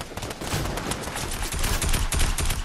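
Dense gunfire from many directions in a Fortnite match, rapid overlapping shots and bursts sounding loud and continuous throughout with no speech.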